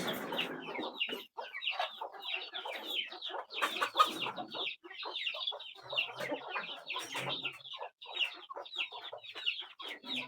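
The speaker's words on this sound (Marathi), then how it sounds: "फक्त कोंबडीच आहेत की कोंबे पण?" Hens cluck in a backyard pen in Konkan, a busy chorus of overlapping clucks and squawks that is fairly near and continuous, with no clear talking over it.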